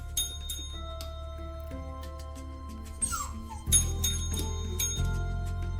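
A small bell rung by a dog jingles a few times over a low steady hum, with faint dog whimpers and yips in the room.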